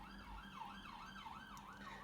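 An emergency siren wails outdoors, faint and distant, its pitch rising and falling in a steady repeating cycle over low background rumble.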